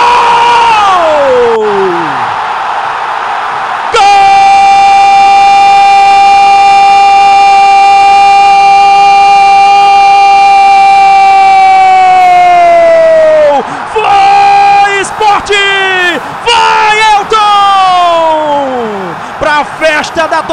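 Sport supporters celebrating a goal at Ilha do Retiro football stadium, a loud crowd roar beneath a commentator's long, sustained goal shout and excited commentary.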